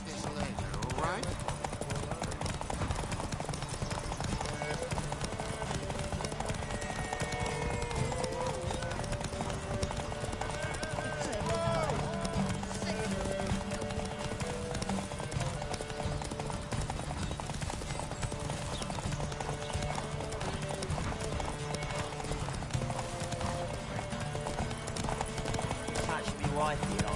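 The horse Roach gallops in a Witcher 3 race with steady rhythmic hoofbeats and clip-clop, continuous throughout under music and game voices.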